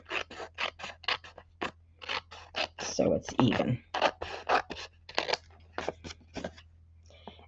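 Scissors snip and trim designer series paper on a handmade card in a rapid series of short, crisp cuts, close and quiet, with a voice talking briefly over them.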